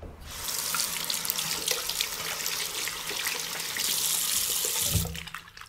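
Water runs steadily from a tap into a sink for hand washing, a loud, continuous splashing flow with no talk that eases off just before the end.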